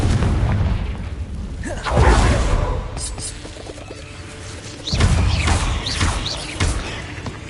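A Confringo blasting spell from Hogwarts Legacy goes off as two loud booming explosions with crashing debris, a few seconds apart, over battle noise and a voice shouting.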